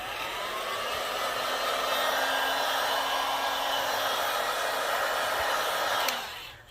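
A heat gun blows a steady, loud whooshing roar onto a Google Pixel 6 phone screen for about six seconds, then cuts off and winds down quickly.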